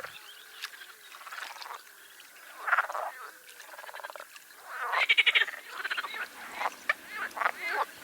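Green frogs croak in a marsh in spring, a loose chorus of close, overlapping calls that rise and fall in repeated bursts, with a louder rattling run midway and no voices.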